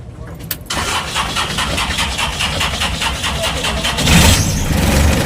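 A car engine with a weak, struggling starter cranks and catches, then settles into a loud, rough idle and revs, recorded up close with people talking nearby.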